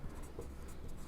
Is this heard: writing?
yes